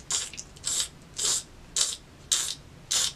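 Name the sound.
slides sticking to foot while walking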